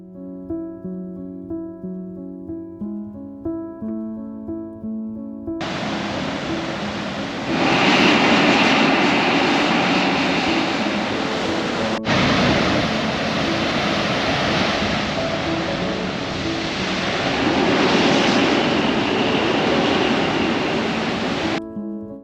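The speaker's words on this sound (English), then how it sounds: "the air coming up through those holes as it's pushed through the hole is quite loud to listen to" Air roars up through coastal rock blowholes on the Eyre Peninsula: a loud, steady rushing hiss that swells and surges for a long stretch, following a short passage of music.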